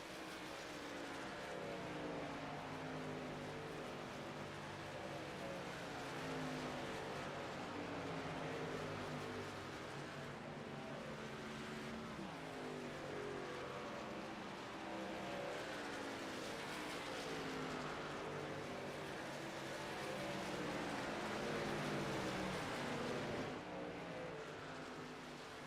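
A field of race trucks laps Nashville Superspeedway in a racing video game, engines droning in a steady layered roar with wavering pitch as they pass and rev, continuous and moderately loud, with no talk.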